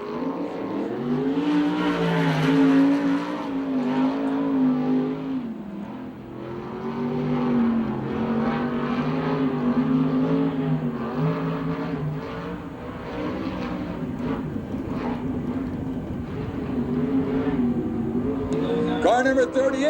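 USAC/CRA sprint car on a qualifying lap at Phoenix, engine roaring and rising and falling steadily as it circles the track, loud and continuous with an announcer talking over it.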